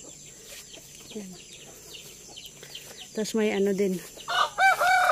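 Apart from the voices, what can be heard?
chickens clucking and rooster crowing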